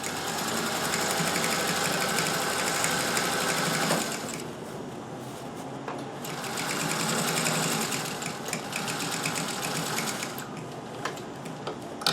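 A Singer 201K sewing machine stitches a cravat and pocket kerchief in long, steady runs of fast needle clatter and motor hum, close and even, easing off briefly around the middle before resuming.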